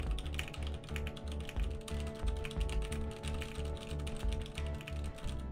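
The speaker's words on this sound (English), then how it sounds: "My old keyboard sounds like this with brown switches in the comparison." Fingers type on a mechanical keyboard with brown switches, a quick uneven patter of close, crisp key clicks and thocks running without a break and with no talk.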